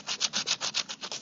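Sandpaper rubbing back and forth across a wooden buffet, about eight steady, even strokes close up, with no voices.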